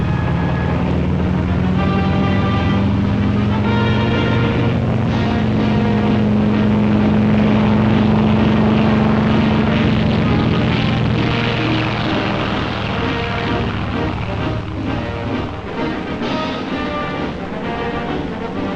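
1940s US Navy dive bombers drone with a loud, sustained propeller-engine roar that varies slightly in pitch and never breaks. The noise is dense and continuous, like archival film sound, with no voices.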